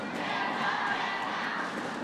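An excited crowd of school kids cheers at an Axiata Cup 2014 mixed doubles badminton group match, a continuous wash of distant voices filling a large hall.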